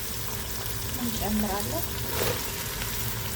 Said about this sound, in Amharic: ካሮትና ባሚያዬና ሽንኩርቴና ፎሶሊያዬ እንዲጠበስ ካሉ በኋላ